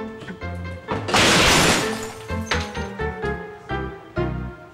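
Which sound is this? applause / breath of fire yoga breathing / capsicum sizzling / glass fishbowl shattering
glass fishbowl shattering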